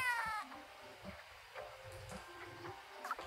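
A cat meows in the video game Stray, one drawn-out cry at the start followed by quieter chirps and game sounds, with no talking.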